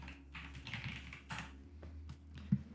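Keystrokes on a computer keyboard as a Windows search entry is typed, a quiet run of light clicks in short bursts over a steady low hum, with one sharper tap near the end.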